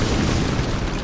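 A tank shell explodes in the military shooter game Project Reality, a loud, dense, rumbling blast filling the whole short moment with no gaps or talk.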